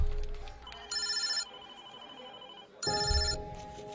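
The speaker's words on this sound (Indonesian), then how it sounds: "teleponku berdering." A phone rings in a busy office during tax-filing season, with two distinct electronic ring bursts separated by a pause, fairly loud over a quiet room background.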